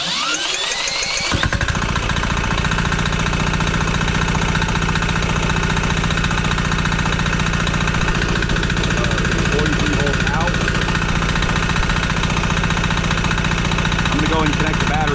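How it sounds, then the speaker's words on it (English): A diesel engine generator runs a little above idle after a short startup at the beginning, giving a loud, steady, even mechanical drone with a constant knocking pulse throughout, with no voices over it. "we're going to go just above an idle for engine speed, so not very fast"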